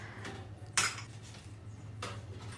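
Spoons and other utensils clink in a kitchen trolley while it is being cleaned, with one sharp rattle standing out above a low steady hum and a softer clatter following a moment later.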